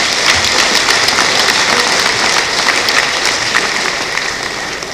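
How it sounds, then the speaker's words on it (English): Sustained applause from an audience at an accountants' conference, a steady dense patter of many hands clapping at close range for the full stretch without letting up. "I would like you to give a hand of applause to our presenter."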